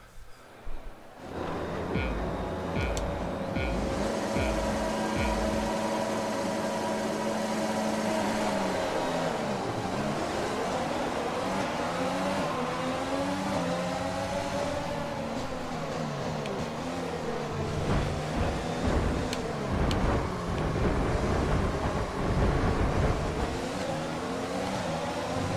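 Formula 1 race car engines in the F1 2020 video game, a continuous loud roar with rising and falling revs through gear changes and corners, sustained for the whole stretch with no talk.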